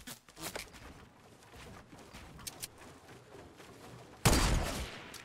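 Gunfire in the video game Fortnite: scattered faint shots, then a loud, dense burst of fire near the end.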